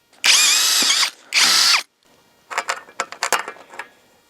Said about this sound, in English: I need to get some holes drilled in here.